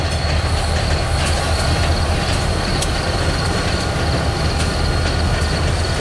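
A Wheeling and Lake Erie freight train hauling coal cars rolls past a crossing in Berea, Ohio, a steady close rumble of wheels with faint squeal and clatter throughout.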